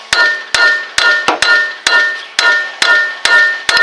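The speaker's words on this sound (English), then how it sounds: "I'm going to take my hammer and just hit this" Sharp metallic hammer blows strike a steering knuckle on a 2000-2008 Ford Focus about nine times, close and loud, ringing at an uneven rhythm with brief gaps between strikes.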